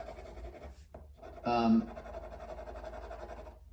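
A graphite pencil scratches across paper while shading a value study, soft rubbing strokes with a louder burst in the middle, heard close under a quiet voice.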